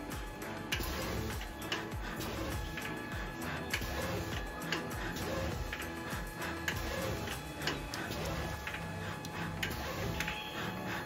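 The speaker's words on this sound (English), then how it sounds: "Here we are printing without a delay" A TTN Servo Innovato pad printer runs continuously without a delay while printing Lego pieces, giving a steady fast mechanical ticking and clacking with regular cycling clicks and a constant background whir.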